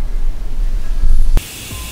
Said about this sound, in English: I'm going to give it a quick coat of black spray paint